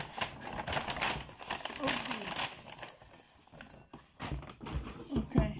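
A shopping bag crinkles and rustles in irregular bursts as it is put away, close and fairly soft, with a person talking over parts of it.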